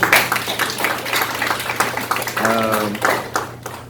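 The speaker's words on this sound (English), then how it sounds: "Please, a round of applause for Miss Sarah." A small audience at a soiree claps for a guest named Miss Sarah, with scattered, moderately loud hand claps throughout and a brief voice or tonal sound partway through.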